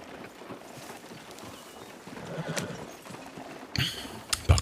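A horse-drawn cart rolls along with faint, rhythmic clip-clopping hooves, followed near the end by a louder, sharper burst of horse sound.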